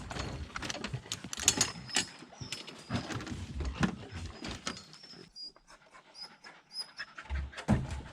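Bear-hunting hounds pant rapidly and heavily close by at daybreak, with quick rhythmic breaths, some jingling and shuffling, and a brief lull before panting resumes.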